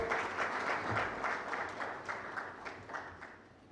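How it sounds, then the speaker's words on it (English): At a customer engagement awards forum, a crowd breaks into sustained applause to welcome a speaker to the stage, a dense, continuous patter of many hands at moderate distance. "welcome him with a louder round of applause"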